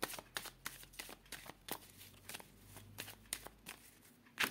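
Tarot cards being shuffled and cut by hand in a quiet room, a close series of soft riffling flicks and slaps in an uneven rhythm, with no talk.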